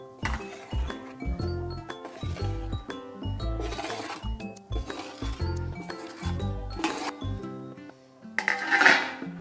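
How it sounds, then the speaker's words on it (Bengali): Besan (gram flour) for dhokla being transferred into a bowl in a home kitchen, with close, irregular clinks and clatters of the bowl and utensils, plus brief scraping, and no talking. "এবার একটা বোলের মধ্যে এটাকে আমি নিয়ে নেব বেসনটা"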